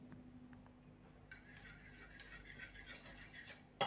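A utensil stirring sardines in a pan, with soft scraping and rubbing strokes that grow busier midway, fairly faint and close, ending with a brief louder knock.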